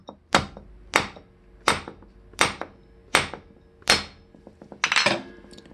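A bicycle part is knocked into place with a hammer-like striker against a grooved edge, about six sharp, evenly spaced metallic taps followed by a quick flurry of lighter knocks, close and clear.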